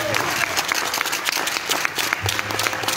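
A live worship audience at a concert in Koné claps and cheers to acclaim the Lord, dense steady applause with scattered shouts throughout.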